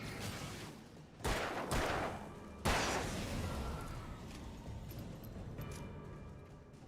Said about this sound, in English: I'm about to use them flashbangs